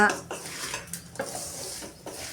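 Ragi flour mixture with oil, salt and chilli stirred in a pan: steady scraping and knocking of a spoon against the pan in a loose repeating rhythm, close up, with a faint sizzle beneath and no speech.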